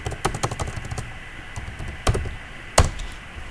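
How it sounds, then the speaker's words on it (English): Rapid keystrokes clatter on a computer keyboard as commands are entered, with a run of light taps and a couple of sharper, louder key strikes near the end, close and clear with no talk. "If I'm typing here"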